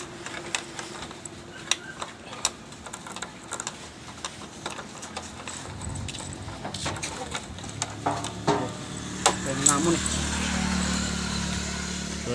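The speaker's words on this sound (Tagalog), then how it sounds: "titestingin na lang kung wala na bang ingay yung makina" A repaired motorcycle engine being test-run to check for noise, giving off a rattling mechanical clatter with sharp ticks and knocks that build into a steadier running drone near the end, close by.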